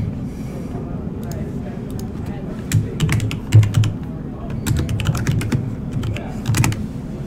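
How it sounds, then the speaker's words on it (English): Loud computer keyboard typing during a Magic: The Gathering session, heard as quick bursts of sharp, close clacks over a steady low background hum. "I do have the world's loudest keyboard"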